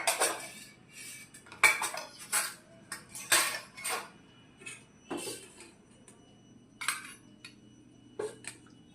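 Plates and cutlery clatter while parathas and curry are served, a series of sharp clinks and scrapes of spoons on dishes, irregular and close, with quiet gaps between bursts.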